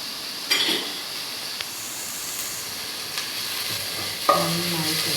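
Onions sauté with salt in a pan, giving a steady soft sizzling hiss broken by a few brief stirring scrapes and clinks, close and alone without talk.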